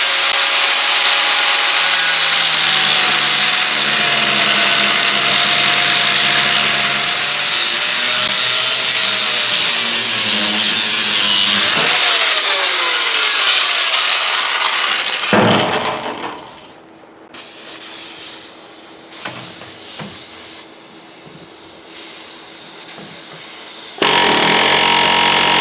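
A drill grinds through the metal of a dump truck tailgate, loud and continuous with shifting pitch, then becomes rougher and intermittent as the bit breaks through.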